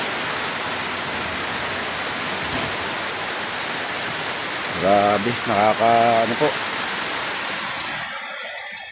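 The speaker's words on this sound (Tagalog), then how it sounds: "Sobrang lakas ng ulan." Heavy rain pours in a dense, steady roar, with someone briefly speaking over it before the downpour fades slightly at the end.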